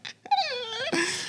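A dog gives a drawn-out, wavering whimper that rises into a moaning whine, close and fairly loud, followed by a brief burst of noise.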